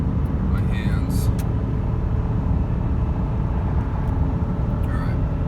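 A 1997 Honda Civic DX hatchback with a five-speed manual and its original D16Y7 engine cruising in the highway fast lane, a steady low road and engine rumble filling the cabin throughout.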